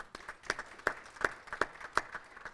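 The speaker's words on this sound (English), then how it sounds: "Give them a round of applause." An audience at a county budget meeting claps for staff members, a short, sparse burst of individual claps with distinct, fairly close hand strikes.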